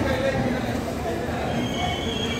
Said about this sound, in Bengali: ধীরে ধীরে শিয়ালদা স্টেশনকে পেছনে ফেলে আমাদের ট্রেন এগিয়ে চলল।